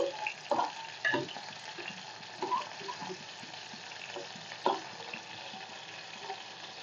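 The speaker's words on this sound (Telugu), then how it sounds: "ఇవి నూనెలో వేగుతాయి కదండి" Dried fish frying in oil for an eggplant and dried fish curry, a continuous close crackling sizzle with occasional louder pops and utensil taps.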